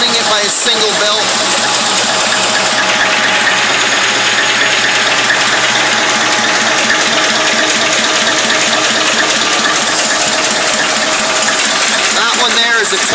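A Listeroid single-cylinder diesel engine turns an alternator through a single belt, giving a loud, steady, close-up rhythmic thumping and knocking that holds without pause.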